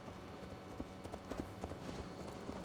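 Horse hooves clip-clop at a slow, uneven walk in Assassin's Creed Valhalla, soft and mid-distance over a steady ambient game bed, with no talk.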